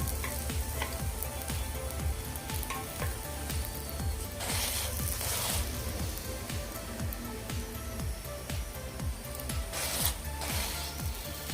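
Puran poli cooking on a hot griddle with ghee, a steady close sizzle and crackle running throughout with brief louder hissing bursts, no talking.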